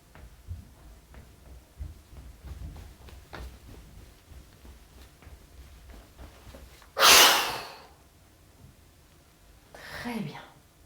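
A deep, forceful inhalation taken during a short French-guided tension-release breathing exercise, a loud rushing breath standing out clearly after quieter moments of soft speech, followed later by a gentler exhale.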